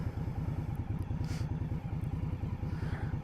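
A 2021 Indian Scout Bobber motorcycle idles at about 1100 RPM with a lumpy, evenly pulsing low throb and a few faint scattered clicks, close by and without talk.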